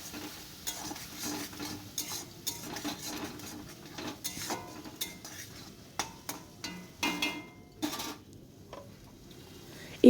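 A spoon scrapes and clinks in a pan as chilli, ginger, garlic and onion paste is stir-fried with prawns, with uneven stirring strokes over a soft sizzle and no voices.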